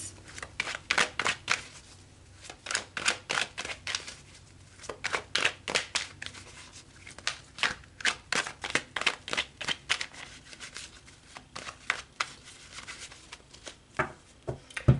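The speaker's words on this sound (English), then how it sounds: "So let's pull some more cards." Tarot cards being shuffled by hand, a long run of quick, close riffling and flicking bursts in an irregular rhythm with brief pauses, with no talk over it.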